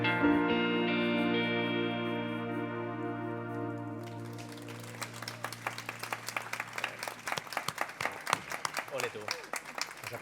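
An audience at a cemetery memorial event bursts into applause partway through, loud scattered clapping that takes over after a sustained musical tone fades.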